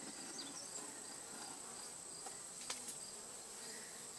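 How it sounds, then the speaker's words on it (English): Honeybees buzz around a hive box while honey is being harvested, a faint, continuous insect drone with a few brief flickers of nearby buzzing and light ticks. "making sure that bees are out of the box when you go to"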